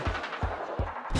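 Three heavy gunshots at roughly even intervals, each a sharp low boom with a brief tail, followed by a louder blast at the end.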